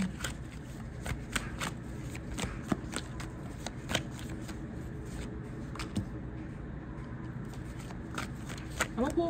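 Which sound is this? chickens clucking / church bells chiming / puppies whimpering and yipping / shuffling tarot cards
shuffling tarot cards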